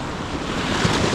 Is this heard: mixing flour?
no